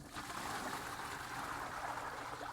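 River water is poured into a bait container holding minnows, a soft continuous gurgling stream that holds steady from start to finish.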